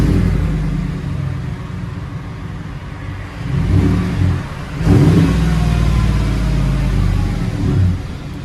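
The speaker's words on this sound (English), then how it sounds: "So here's a sound clip that I'll show you guys with a 22-inch Magnaflow." A car exhaust fitted with a 22-inch Magnaflow muffler rumbles deep and loud at idle, then swells through a couple of rising revs before settling into a heavy steady drone.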